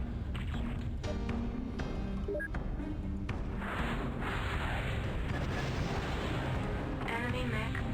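Loud, sustained rumbling blast from an enemy mech being destroyed in the MechWarrior 2: 31st Century Combat game, broad roaring noise with booming impacts and a voice talking over it.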